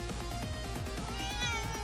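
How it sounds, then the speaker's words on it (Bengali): A cat meows insistently, close by, with drawn-out plaintive cries over a busy background, and no one talking. "যাদের বিড়াল সে ডাকছে"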